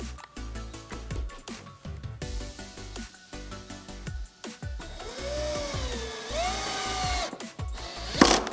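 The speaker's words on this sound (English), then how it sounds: "you are going to use the screws in your power drill to attach your switch onto the desk" A power drill drives screws to fix the switch onto a NewHeights Elegante XT standing desk, its motor whining in rising and falling bursts between clattering handling noises, close and fairly loud, with no talking.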